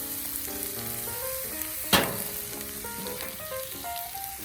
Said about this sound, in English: Like our shrimp with the spice on there. You can hear that sizzling up.